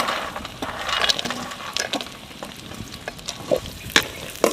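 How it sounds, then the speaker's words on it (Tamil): Raisins, cashews and almonds frying in a pan for a fruit biryani in a village kitchen, steady crackling sizzle with scattered stirring scrapes and clinks, close and alone. "எல்லாத்தையும் நல்லா பொன்னிறமாக வறுத்து எடுத்துக்குவோம்"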